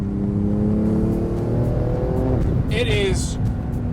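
A 2018 Porsche 911 GT2 RS engine droning loudly up close, its pitch climbing through the gears before a brief shift, with a voice talking over it.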